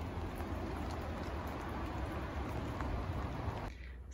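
Rain falls outside a tiny house with cedar shiplap walls on a rainy Portland day, a steady close hiss of drops that fades slightly near the end.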